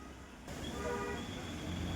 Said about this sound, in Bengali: আর আমার পাশ দিয়ে কিন্তু টয় ট্রেন যাচ্ছে